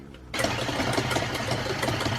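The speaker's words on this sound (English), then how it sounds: "And now I'm going to mix one final time for good luck." Gluten-, lactose- and yeast-free crepe batter is mixed in a bowl with a steady, close motorized whir that kicks in abruptly after a quiet moment and runs evenly to the end.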